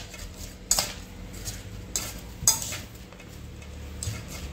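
A spoon clinks and scrapes against a bowl while stirring a chili and garlic mixture, a few sharp metallic taps over soft mixing sounds, close and quiet with no talk.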